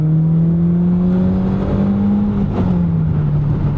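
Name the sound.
BMW Z3 accelerating during spirited driving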